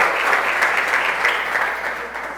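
A church congregation applauds in praise, a dense, steady roar of many hands clapping together, loud and sustained without pause for a couple of seconds.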